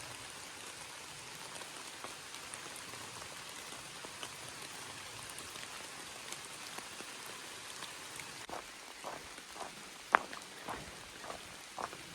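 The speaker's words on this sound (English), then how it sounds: "brief pause to enjoy the sound of the rain" Steady soft rain patters on ferns, leaves and ground on the Appalachian Trail, with occasional louder drips and taps near the end, quiet and continuous with no voices.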